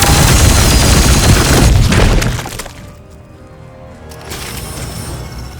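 A loud, dense burst of scatter-shot gunfire with shattering debris in the Warhammer 40K: Chaos Gate video game, blasting for about two seconds before fading into a lower rumbling tail and lingering ambience.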